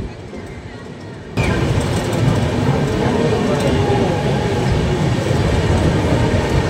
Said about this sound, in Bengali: আমাদের ট্রেন ঢুকছে বর্ধমানের 1 নম্বর প্ল্যাটফর্মে